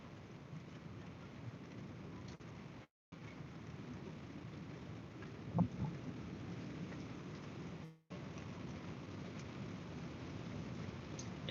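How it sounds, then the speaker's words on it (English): Steady rain falls outside in a constant dense hiss for several seconds, with a low rumble of thunder rising partway through. No one speaks. "there's rain going on right now"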